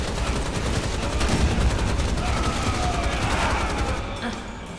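Rapid gunfire from the video game Rise of the Triad, a dense, continuous burst of shots and blasts throughout with a voice briefly audible under the shooting.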